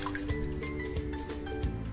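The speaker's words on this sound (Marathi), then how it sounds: "1 वाटी पाणी आपण कढईमध्ये टाकून घेणार आहे" Water from a bowl trickles and splashes into a kadhai in short, close, wet drips over a low hum, without any voices.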